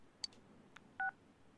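Short electronic keypad beeps from a phone in the video game Persona 4 Golden: a few faint tones, then one clearer, louder dual tone, heard alone in quiet.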